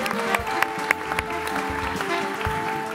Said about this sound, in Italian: un applauso a Memo.